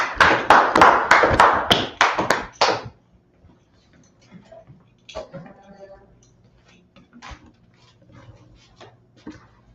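A small group claps in a brisk burst for about three seconds at a religious class in Harlem, loud and close, then fades into quiet room sounds with scattered taps and faint voices.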